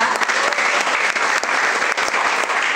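Steady, dense applause from an audience at a cooperative's annual members' meeting held at a prison, loud and continuous with crisp claps throughout, no speech over it.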